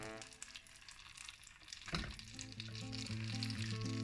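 Crepe sizzling as it is lowered into hot butter in a pan, a soft bubbling hiss that swells near the middle and then settles into a steady, close fry, with an electronic hum running underneath.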